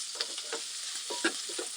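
Sautéed vegetables and pork being mixed while frying in a pan: a continuous hiss of oil under repeated soft scrapes and clacks of the stirring utensil, close and steady.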